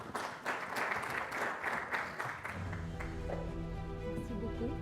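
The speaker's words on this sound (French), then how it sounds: "Sous vos applaudissements à Madame Ilham Kazini" Conference audience applause welcoming a speaker to the podium, steady dense clapping for a couple of seconds that gives way to a voice beginning to speak.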